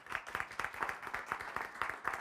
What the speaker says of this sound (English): I don't know if you hear the clapping, but people are clapping